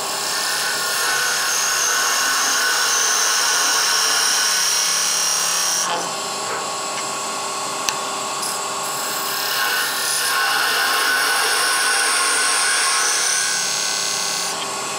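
Steady scraping hiss of an opposite hand scraper cutting a hard maple hollow sphere spinning on a lathe, continuous and close with one brief pause midway.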